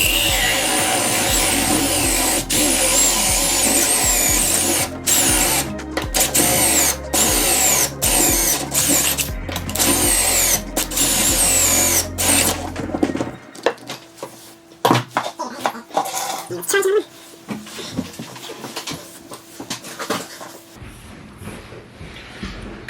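A power drill fitted with a Rubi Easy Gres Plus kit bores holes in tile, a loud steady whine for about thirteen seconds with brief cut-outs, then scattered clatter and handling noises as the drilling stops.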